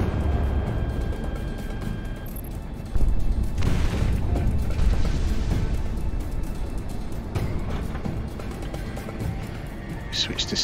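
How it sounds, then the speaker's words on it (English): A missile launch and explosion in the jet combat game Project Wingman, a whooshing roar and dull boom beneath steady engine rumble while a voice talks over it. "missile away."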